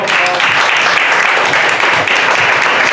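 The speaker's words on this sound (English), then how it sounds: "Give a round of applause" Sustained audience applause from a seated group, dense and steady throughout with no pauses, loud and close.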